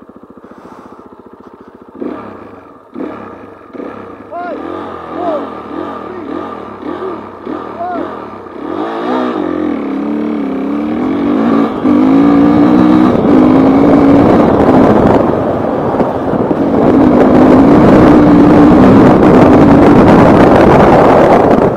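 Rally motorcycles, cars and SSVs gather at the start of a Transcarpatic Rally stage, engines idling and revving loudly at close range, with wind buffeting the microphone and people talking over the running motors.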